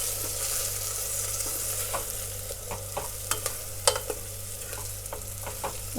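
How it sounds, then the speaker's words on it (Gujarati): Spices stirred into a pan of whole eggplant curry, with a steady low sizzle and a scatter of sharp scraping clicks from the spoon against the pan, close and fairly quiet, no voices. "મસાલાને મિક્સ કરી લઈશું।"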